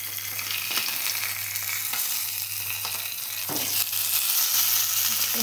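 Food fries in hot oil with a steady, dense sizzle and bubbling crackle, close and continuous, with occasional soft clinks from a utensil.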